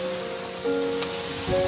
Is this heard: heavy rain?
yes